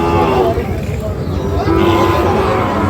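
Sahiwal bull calves about six months old at a rainy, muddy cattle market give low lowing moos over constant crowd noise and nearby chatter, loud and close.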